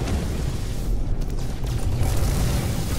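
Missile explosion in the space game No Man's Sky during a ship fight, a dense rumbling boom that fills the clip, loud and sustained for a few seconds.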